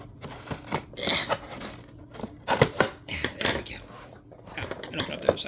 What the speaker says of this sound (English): And of course I need my little scissors again.